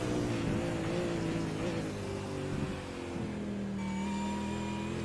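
A race car in a racing video game at Interlagos runs down the front straight toward pit entry, its engine droning steadily with a gear change and a rising high whine, fairly faint.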